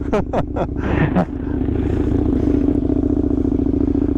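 A Ducati Multistrada V4S with an Akrapovic exhaust rumbles loudly and close by, settling from a few clattering bursts into a steady, throbbing engine drone.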